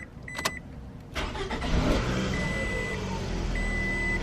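A car cranks and its engine catches right after a new battery goes in, then settles into a steady idle that runs on, with a couple of short beeps near the start.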